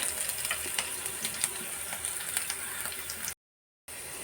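Mutton and green chillies frying in a pan, a steady close crackling sizzle with brief stirring scrapes, cut by a short silent gap near the end before the sizzling resumes.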